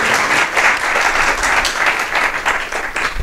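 Students in an astronomy class burst into dense, steady applause, a loud continuous wash of clapping that holds for the whole stretch without any voices.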